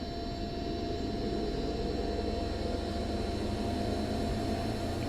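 A Cessna 152 engine in the X-Plane simulator holds 1700 RPM as a steady, unbroken droning hum with a constant tonal whine, loud and even from start to finish, with no talking.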